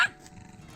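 A single sharp bark from Gizmo, a foster dog in a backyard, lands close and loud right at the start, then fades into a low, rumbling growl-like murmur for the rest of the brief moment.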